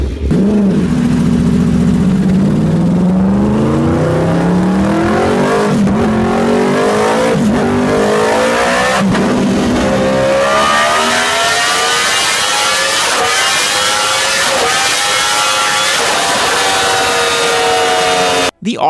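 A Yamaha R1 sportbike's cross-plane crank engine revs repeatedly through rising and falling pitches, loud and close, with a throaty, rough-edged tone and sharp gear changes.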